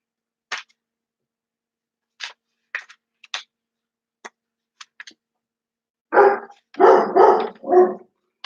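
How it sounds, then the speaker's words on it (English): A dog barks in short, sharp yaps scattered across a quiet room, then breaks into a louder run of four close, fuller barks near the end. "Excuse me, dog's barking."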